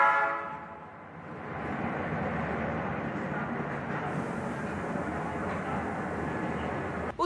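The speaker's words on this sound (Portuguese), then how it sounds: "O maquinista chega a buzinar para o motorista, que não conseguem sair das linhas férreas." A train horn blasts at a city rail crossing as a car sits stuck on the tracks, the opening horn giving way to a loud, steady rumble of the approaching train.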